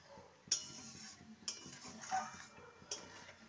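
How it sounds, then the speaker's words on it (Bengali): A spoon scrapes and knocks against a cooking pot while fish curry is mixed, striking four sharp metallic clinks at uneven intervals over soft, quiet stirring. "ভালো করে মিশিয়ে নেব।"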